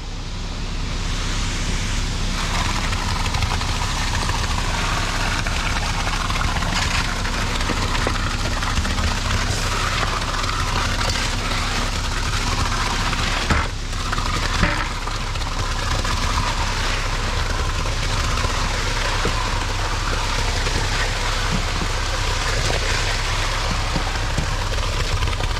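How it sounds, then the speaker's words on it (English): A concrete truck's diesel engine runs steadily on a job site, producing a loud, continuous broadband rumble that holds unchanged from start to end with no talk over it. "Boy, we got that truck back all the way in here."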